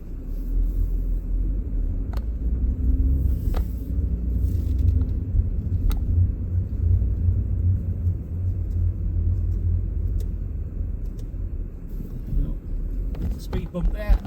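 A 2012 Vauxhall Astra GTC 1.4T SRi automatic with 66k miles pulls away and drives, a steady low engine and road rumble heard from inside the cabin, a few faint knocks over it, while someone talks.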